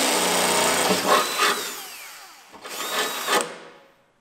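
A power drill whirs loudly up close while drilling into a VW T5 van for a snorkel intake, running in two bursts that rise and wind down, the second trailing off to silence.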